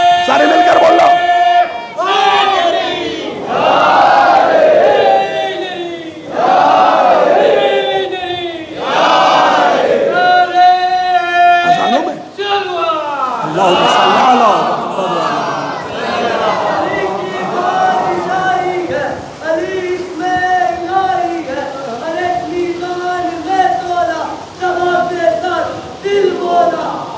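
A majlis crowd at a Surat imambargah chants slogans in loud, rhythmic unison bursts, voices rising together in repeated waves with brief pauses between calls.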